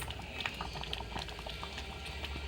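Thick curry simmers and bubbles in a pot, soft irregular pops and blips over a low steady hiss, close and fairly quiet.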